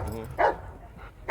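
A police dog barks during an obedience demonstration at a fair in Nouakchott, two short, sharp barks spaced apart, close and fairly loud, with no talk over them.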